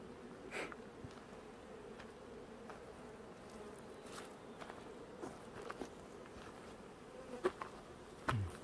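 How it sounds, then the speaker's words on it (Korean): Bees buzzing around a mating hive where a swarm that had left has settled back in, a faint, steady insect drone close by with a few soft taps and rustles, no voices. "여기도 지금 벌이 좀 들어와가지고 지금 붙어 있습니다"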